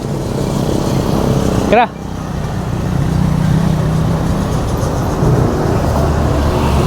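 A motorized tricycle engine drones loudly and steadily during the ride, with a short break early on before it picks up again; voices talk over it.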